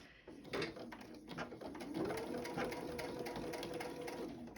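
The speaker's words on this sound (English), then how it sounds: "I will bring this over to my machine, making sure these are close together, and I will top stitch this one as well." Sewing machine top stitching a zipper casing, a fast steady rattling whir close by, running continuously under pigeons cooing in the background.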